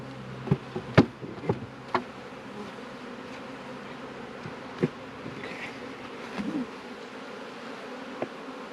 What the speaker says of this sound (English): I'll come back later once all the bees go in there.